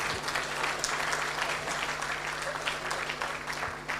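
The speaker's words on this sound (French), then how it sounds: "M. Yomba, applaudissez pour lui s'il vous plaît." Audience applause for a former boss honoured at a talk in Cameroon, a steady dense patter of many hands filling the room, continuous and fairly loud, with a low electrical hum beneath.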